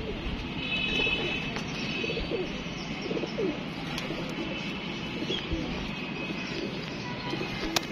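Pigeons coo softly and repeatedly amid a steady outdoor background, with faint chirps and occasional noises mixed in.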